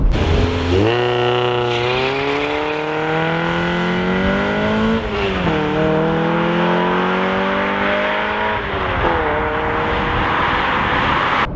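A Citroën BX 16V four-cylinder twin-cam engine revs hard and climbs in pitch, eases off, then winds up again, loud and close, with a buzzy multi-harmonic tone.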